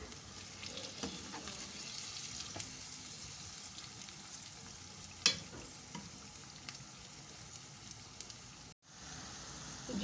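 Sliced potatoes and onions sizzle softly in oil in a pan for a Spanish omelette, a quiet continuous crackle with occasional stirring taps and a few sharper pops.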